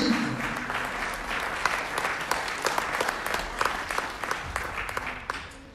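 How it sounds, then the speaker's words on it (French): An audience claps for the first-prize winner of an adult amateur music contest, steady applause with sharp individual claps throughout, with no one speaking over it. "On l'applaudit"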